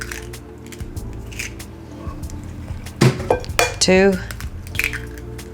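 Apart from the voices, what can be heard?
eggs being cracked into cake batter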